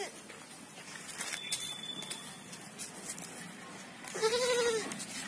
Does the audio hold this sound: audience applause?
no